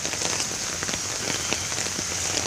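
Steady rain patters on a flooded residential driveway, a dense, even hiss of drops hitting pooled water and pavement throughout, close and continuous with no voices.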